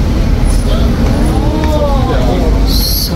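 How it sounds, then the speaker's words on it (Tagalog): Busy evening street traffic in Seoul among luxury cars and lit buildings: a continuous loud rumble of buses and cars with a brief air-brake hiss near the end, heard from close by on foot. "Uy, traffic."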